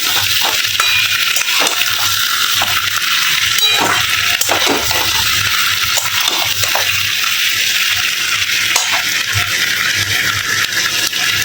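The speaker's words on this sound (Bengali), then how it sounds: "তো অল্প একটু জল দিয়ে আরো ভালো করে কষিয়ে নিচ্ছি।" Potol and prawn curry being sautéed with a little added water, a loud, steady bubbling sizzle with rhythmic stirring and scraping in the pan, continuous throughout.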